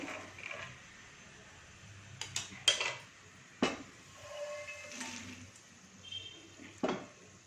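Fried peanuts being scooped out of a pan while making a coffee-time snack, heard as scattered clinks and scrapes of a utensil against metal with small rattles, soft and intermittent with no talking.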